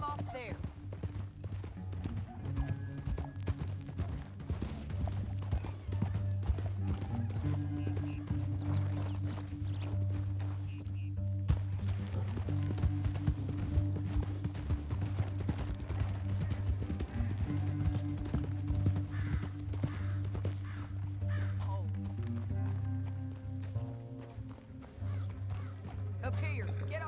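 Horse hooves clip-clop steadily in Red Dead Redemption 2, a repeated rhythmic hoofbeat under in-game talk and background score, with a brief whinny-like sound partway through.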